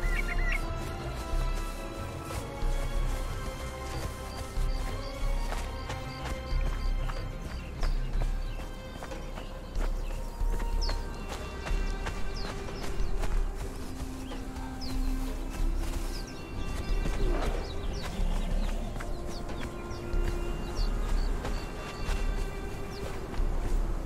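Horses' hooves clip-clop in the video game Conan Exiles, a steady run of close, repeated knocking steps mixed with bird and fowl-like clucking calls in the background.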